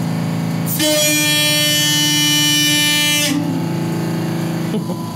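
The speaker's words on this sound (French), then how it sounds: "Voulez-vous que j'actionne le klaxon?" A loud, sustained horn blast rings out for about two and a half seconds, a steady multi-tone honk over low engine rumble.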